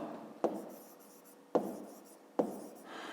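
Numbers written by hand for a fifth-grade maths exercise: three short, scratchy pen-on-paper strokes, each with a crisp start and quick fade, close by and alone without talk.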